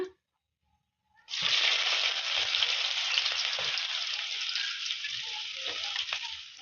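Finely chopped medium onion lands in hot oil with mustard seeds and cumin, bursting into a loud, steady sizzle after a brief silence and crackling on evenly, with faint stirring clinks beneath.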